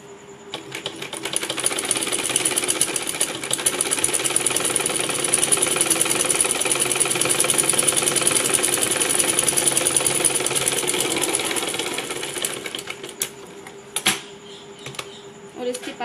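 A sewing machine stitching a straight seam with piping on a salwar, a fast rattling mechanical chatter that runs steadily for about twelve seconds, then slows and stops, leaving a few isolated clicks.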